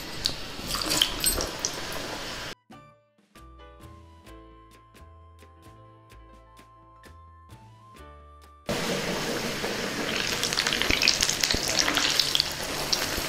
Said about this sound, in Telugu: కంద వేగుతూ ఉంటుంది